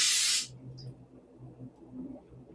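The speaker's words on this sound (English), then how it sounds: "just lightly spray it so that it doesn't stick" Cooking spray hissing onto a muffin tin lined with paper liners, one short loud burst of under half a second, then quiet kitchen room tone.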